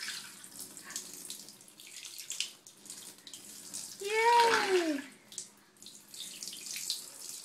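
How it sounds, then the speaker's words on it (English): Shower water splashing down during a young child's bath, a short gushing burst that swells and fades amid quieter bathroom sounds and a brief squeaky tone. "Shower."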